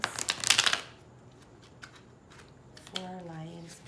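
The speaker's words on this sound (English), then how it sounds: "Okay, I'm going to shuffle." Tarot cards are shuffled in a quick burst of crisp riffling and flapping that lasts under a second, followed by quiet, then a person starts speaking.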